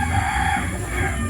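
Young turkeys about four months old call out over a steady low background noise, with a sustained tonal call early on and continuous fowl sounds throughout.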